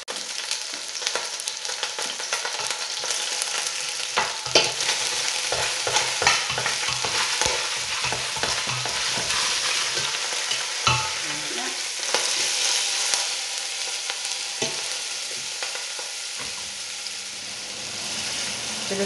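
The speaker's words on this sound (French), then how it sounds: "je vais venir y mettre de l'huile d'olive et je vais me mettre à rôtir le rôti sur toutes les faces" A pork roast sears in olive oil in a pot, a loud, continuous close frying hiss with irregular crackles and spatter bursts as it browns on all sides, no voices over it.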